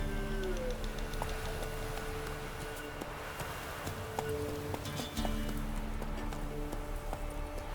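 Horse hooves clip-clopping at a steady trot in The Witcher 3, a rhythmic close patter over a dense game soundscape of ambient noise and music.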